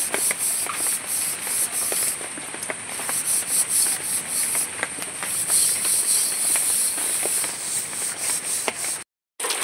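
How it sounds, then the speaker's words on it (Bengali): Steady, close abrasive scrubbing against a metal wok, a continuous rough rasping with rhythmic strokes that runs for several seconds before a sudden brief stop. "আমি মেজে দেখাচ্ছি।"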